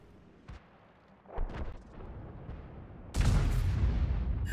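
During a World of Tanks battle, a tank gun fires: a few muffled thumps build up, then a loud, close cannon blast erupts and rolls on with a heavy rumbling tail.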